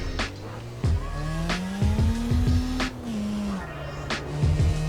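A drag car in the CarX racing game revs and accelerates with a sustained engine drone that climbs and falls, while repeated short tire squeals and skids burst in over it, all close and loud with no talk.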